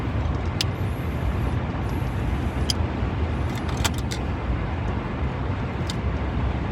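A car drives steadily along a road, its tyre and engine rumble forming a constant, close interior drone with a few faint clicks and chirps above it.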